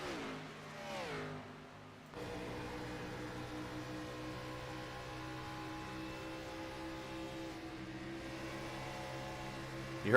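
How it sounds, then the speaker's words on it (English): NASCAR-style stock car in a racing sim at Chicagoland, engine droning steadily at high revs after a brief dip and lift off throttle, loud and continuous with no talk. "You heard Kelly lift a little bit there"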